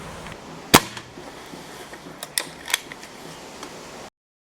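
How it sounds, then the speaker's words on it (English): A Haenel Model 303 air rifle fires Air Arms Diablo field pellets over a chronograph, giving one sharp close crack followed by a few softer mechanical clicks and snaps. "Now I'm now going to test the power by firing another 10 of those Air Arms Diablo field pellets"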